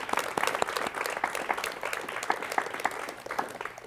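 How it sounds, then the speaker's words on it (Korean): A studio audience claps to welcome an elderly philosophy professor on a 1986 Korean television talk show, with brisk, close applause that holds steady for several seconds and no speech over it. "박수로 맞이해 주십시오"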